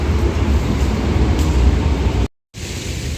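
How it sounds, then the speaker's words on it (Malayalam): A Dubai Metro train pulling into a station on a hot day: a loud, continuous low rumble and rushing roar that cuts out abruptly, then resumes more quietly. "അങ്ങനെ നമ്മുടെ മെട്രോ എത്തിയിട്ടാണ്"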